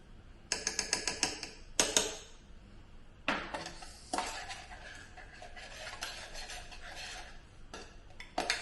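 A spoon mixing coffee in a bowl: quick bursts of close clinking and scraping, a rapid rattling run at first, then pauses and irregular stirring scrapes with occasional sharper taps.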